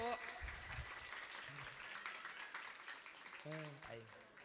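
Audience applause at an Indonesian religious talk, a soft, distant wash of clapping heard beneath a voice speaking and brief tonal sounds.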